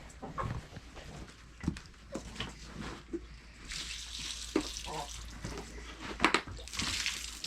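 Water running to fill a chickens' waterer at a backyard coop on a snowy winter morning: a fairly quiet, uneven splashing and hissing stream with a few knocks and handling noises.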